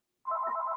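A telephone ringtone starts abruptly after a brief silence and sounds loud and close as a steady electronic tone, cut off sharply at the end, with no talk over it.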